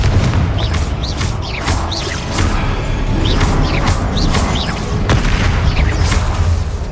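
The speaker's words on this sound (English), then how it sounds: "Confringo!" Repeated Confringo fire-blast spells in Hogwarts Legacy combat on PS5, loud booming impacts and crackling bursts one after another over a dense, continuous battle din.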